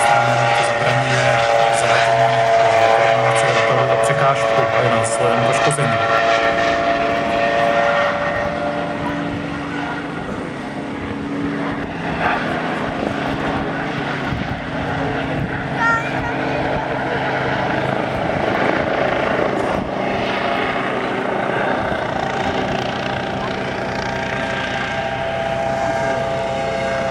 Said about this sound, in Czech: Vrtulník je uspořádání fenestron, to znamená, že nemá klasický vyrovnávací rotor, ale má vzadu ventilátor.